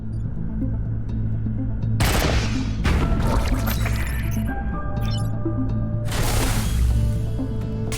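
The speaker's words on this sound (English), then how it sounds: "Gemini missile." Gemini missile launch in the Into the Breach strategy game: several loud, sharp explosive bursts crack out over a steady droning game soundtrack, followed by ringing electronic tones.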